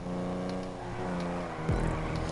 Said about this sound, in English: This has got to be one of the best sounding cars in the game.